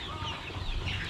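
Hens on a poultry farm in Addis Ababa cluck softly and steadily in a brief, faint burst of low, continuous fowl chatter with no talking over it.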